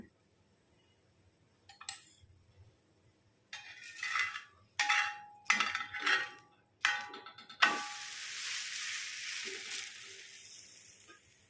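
Ragi roti handled on a pan with a few drops of oil: scattered scrapes and taps of a utensil, then a steady soft sizzle settling in for the last few seconds, fairly quiet overall.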